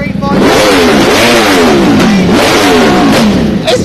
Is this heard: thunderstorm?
no